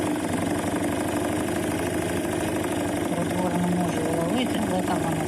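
A scooter engine idles in a steady, even drone throughout, with a voice talking over it partway through.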